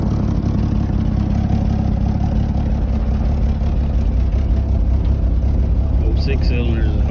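A 1965 Chevy C-10 pickup's old six-cylinder engine idles steadily after carburetor cleaning, filed points and a new ignition switch, a loud, even low rumble with light mechanical clatter running close and continuous, with no talk.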